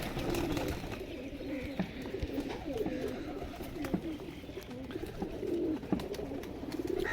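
Several pigeons keep up a low, throaty cooing in recurring rolling bursts nearby, accompanied by scattered clicks and faint higher bird sounds, with no one speaking.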